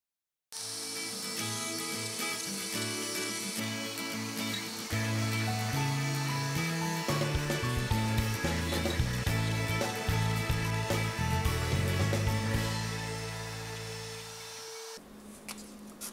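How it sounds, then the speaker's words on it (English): X-Carve CNC machine cutting a cabinet door, a loud, steady mechanical whine with shifting tones as the spindle and motors work, running continuously before tapering off near the end. "it's a good idea to check the settings before starting the cut."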